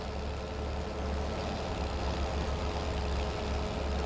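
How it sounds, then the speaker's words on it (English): John Deere 6830 tractor pulling a mower across a hayfield, a steady, loud, close diesel drone with constant low rumble and no pauses throughout. "This mower's been running like a dream on the 6830."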